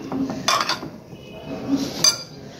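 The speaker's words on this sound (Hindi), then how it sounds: "इसको मिक्स करते हैं।" A utensil scrapes and clinks against a bowl while sandwich filling is mixed, two brief sharp clinks standing out over soft stirring, close by with no talk.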